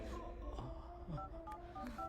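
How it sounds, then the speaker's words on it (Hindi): A phone dials the police, giving a quick string of faint, short touch-tone beeps at uneven intervals over a low background hum. "मैं अभी पुलिस को फोन करती हूँ।"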